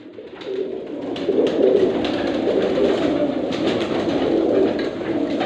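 Pigeons of pure breeds coo in a loft, a steady series of soft low coos repeating close by with no talk.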